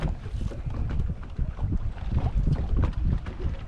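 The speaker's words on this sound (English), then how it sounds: "It's crazy windy." Loud gusting wind roars and buffets the microphone continuously, rumbling low and unsteady throughout.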